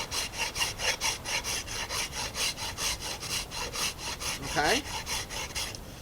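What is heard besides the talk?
filing wooden boomerang with coarse-tooth file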